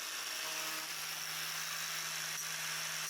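A Parkside PWSAP 20 Li cordless angle grinder runs lightly against a metal welding practice piece. It gives a steady, continuous whirring hum with a constant whine, close and unbroken, and nobody speaks.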